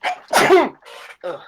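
A single close, sharp sneeze with a short inhale before it, followed by brief murmured voices.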